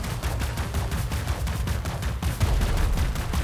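Rapid heavy gunfire from a Titan robot in War Robots: Frontiers, a dense continuous barrage of booming shots with no let-up, loud and close.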